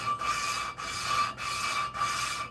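Engine valves being hand lapped, a steady gritty rubbing rasp in four even strokes with brief pauses between them, close and fairly quiet with no talk.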